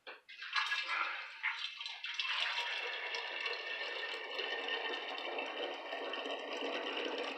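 Liquid for homemade mead pours steadily and close by, a continuous splashing trickle that starts with a few clinks and settles into a constant flow.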